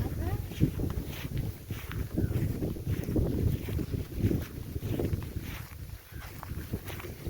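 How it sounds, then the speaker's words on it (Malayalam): Gusty wind buffets the microphone outdoors in an open paddy field, a low rushing roar rising and falling across the clip with faint rustling. "നല്ല കാറ്റുണ്ട് കേട്ടോ പാടത്ത്."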